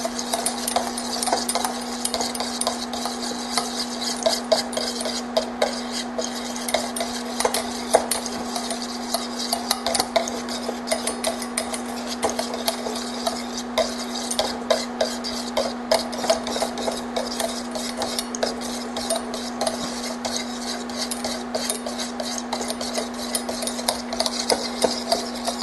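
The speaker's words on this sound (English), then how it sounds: "I'm going to begin tempering in the coconut milk." A utensil scrapes and stirs continuously in a pot as coconut milk is tempered in, making a steady, close rasping and rubbing sound with a constant hum underneath and no speech.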